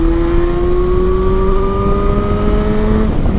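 Yamaha FZ6 motorcycle engine held at a steady high rev, a loud close whine that climbs slightly in pitch for about three seconds and then drops off near the end, with no talk.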